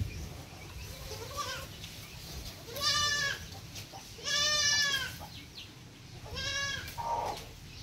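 Goats on a small farm herd of about fifty-five, newborn kids among them, give three or four loud, wavering bleats spaced a second or two apart over a low, steady background hum.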